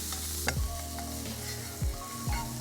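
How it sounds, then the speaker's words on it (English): Chopped onions fry in hot oil with coriander and cumin seeds at a beach barbecue, a steady sizzle with a few scraping stirs and a background hum. "Hot oil with some coriander seeds and some cumin seeds, and then these chopped onions. And so I'm going to cook those down."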